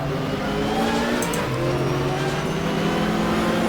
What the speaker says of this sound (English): Real gaggle of cars here as we go around them.